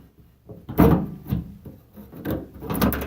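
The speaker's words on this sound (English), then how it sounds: "from the outside, with a little bit of wiggling" An exterior door handle on a Geo Tracker being wiggled out of the door, a series of short plastic-and-metal scraping and rubbing knocks, close up, coming in uneven bursts.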